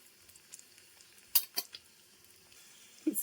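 Dried fish fries in a pan until brownish, with a faint, quiet sizzle broken by a few sharp stirring clinks and scrapes.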